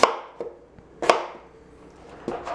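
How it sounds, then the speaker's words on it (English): Potatoes being chopped with a knife on a cutting board: three or four sharp, separate thunks spaced out over a couple of seconds, close and clear, with no voices. "you washed them and you're just chopping them up"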